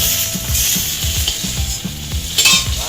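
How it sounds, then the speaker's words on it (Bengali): Carrots fry in a pan that was just used for eggplant, with a continuous sizzle under repeated scraping and stirring knocks from a utensil against the pan. "বেগুনটা তো ভাজা হয়ে গেছে তুলে নিচ্ছি এবার গাজরগুলো ভেজে নেব"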